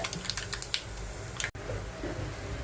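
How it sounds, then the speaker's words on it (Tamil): Mustard seeds, cumin and urad dal crackle in hot tempering oil, a quick patter of sharp pops and clicks, close and fairly quiet. "கடுகு, சீரகம், கொஞ்சம் உளுந்து இதை போட்டு தாளிச்சிட்டு"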